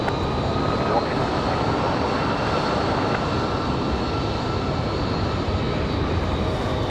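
A Boeing 737 lands at Raleigh-Durham airport with a loud, steady jet roar that holds for the whole stretch, with a voice faintly underneath.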